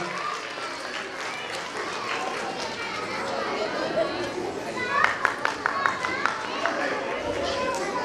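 An audience at a school annual function claps to welcome the guest of honour, a steady patter of applause under crowd chatter and children's voices, swelling into louder, distinct claps near the end.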